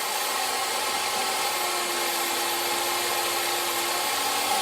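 A steady, continuous electric chainsaw whine cutting through wood, loud and close, with a constant motor drone and no voices.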